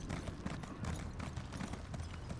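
A horse mount gallops in The Elder Scrolls Online, its hoofbeats a quick, continuous clip-clop rhythm over dense ambient game noise, steady and fairly close for a couple of seconds.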